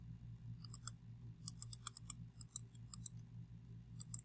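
Computer mouse clicks come in quick irregular bursts and pairs, crisp and close, while someone works in CAD software over a low steady hum, with no talking.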